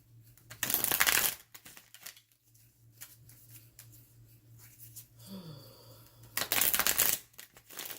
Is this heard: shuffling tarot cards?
yes